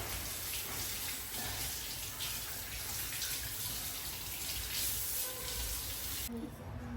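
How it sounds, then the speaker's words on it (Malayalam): Tap water runs steadily as leaves are rinsed under it in a new home kitchen, a loud, close, continuous gush that stops abruptly near the end, leaving faint clatter. "ഇലയൊക്കെ കഴുകി എടുത്തിട്ടുണ്ട്"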